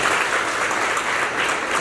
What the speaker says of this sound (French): que je vous dis d'applaudir très très fort.